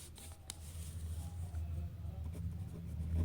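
A pen scratching out short strokes on paper, faint and close, in quick irregular scribbles over a low background hum.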